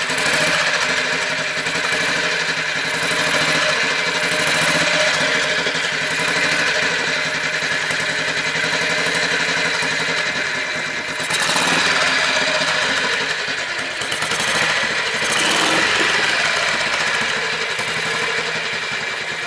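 A 1960 AJS Trials 350 motorcycle idles steadily and close up after being kick-started, its single-cylinder engine running continuously with a rough, even beat and no talk.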